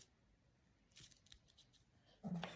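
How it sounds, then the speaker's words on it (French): Scissors snip through a piece of twine indoors, a single short close cut near the end after quiet rustling handling. "je coupe un morceau de twin"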